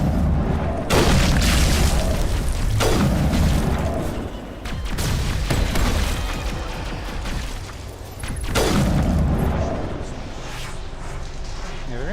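Heavy booming blasts from grenade explosions in the Mass Effect video game, loud and rumbling with several big impacts spread across the stretch, while a person talks over the game audio.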